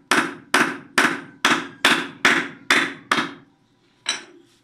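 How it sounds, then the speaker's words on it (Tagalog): Eight sharp, loud hammer blows ring out in an even rhythm while knocking the pointed tip off a metal piece in a homemade grinder lock remover, then a pause and one final strike. "Pukin lang natin ng martilyo."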